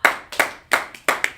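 An audience claps in a short round of sharp, evenly spaced claps that sound fairly close.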